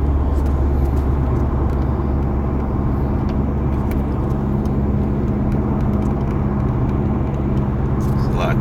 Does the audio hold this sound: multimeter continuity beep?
no